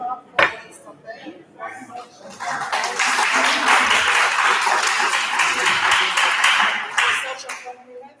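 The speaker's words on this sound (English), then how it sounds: "Another very loud clap for Mr." Conference workshop audience clapping: after a sharp knock and a moment of talk, loud, dense applause swells and sustains for several seconds, then begins to thin out near the end.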